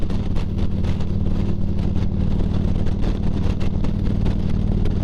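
A Harley-Davidson Road King motorcycle engine rumbles steadily while riding, a loud, low, continuous throb with wind noise over it.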